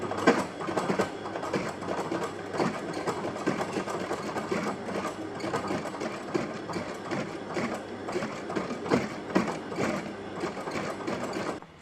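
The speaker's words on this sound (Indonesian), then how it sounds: "kita akan jahit dulu nih ya, yang ini kita jahit dulu" A sewing machine stitches a flat sandal upper in a rapid, continuous mechanical chatter with steady clicking pulses, close and even for about twelve seconds, with no talk.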